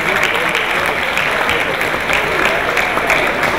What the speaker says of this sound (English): put your hands together for Jesus, please.